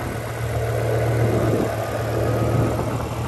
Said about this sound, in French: Voilà le gros cœur de la bête en V10